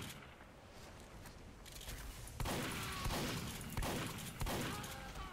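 Rapid gunfire in the video game Team Fortress 2: a dense, loud run of repeated shots over a busy game background, with several sharp reports standing out near the end.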